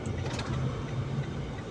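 A motorcycle engine passes, a low droning rumble heard from inside a vehicle, steady and moderately loud with faint higher tones on top.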